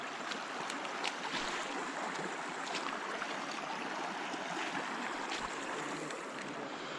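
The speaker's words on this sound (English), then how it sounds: "All right, first creek crossing. A little deep right there." Creek water rushing steadily at a hiking crossing in Pleasant Creek, Capitol Reef National Park, a dense broadband wash of flowing water, close and continuous, with no talk.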